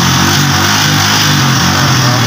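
A Pinoy 155 motorcycle with a failing push starter runs close and very loud, its engine held at a steady high rev throughout.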